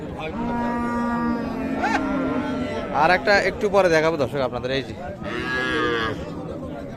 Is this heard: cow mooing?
yes